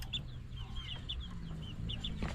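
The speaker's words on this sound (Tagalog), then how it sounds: "Alam mo, sisiw din yan," A chick peeps in short, high, thin chirps repeated at an irregular pace, fairly quiet over a low background rumble on a farm.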